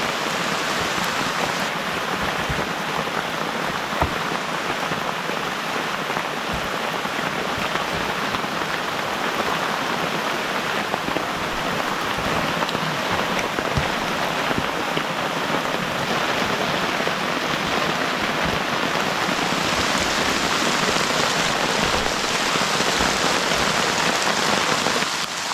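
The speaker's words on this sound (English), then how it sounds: "This is the definition of torrential rainfall. We're talking about inches per hour at this current rate." Torrential rain pours onto a OneTigris Scaena tent during strong storms, a dense, loud, unbroken roar of drops drumming on the fabric for the whole stretch, with no voices.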